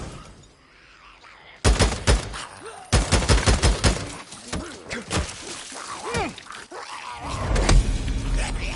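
Rifle fire in Days Gone during a fight at a zombie infestation nest: loud, sharp shots in quick bursts with impacts and scattered crashes, after a quiet opening.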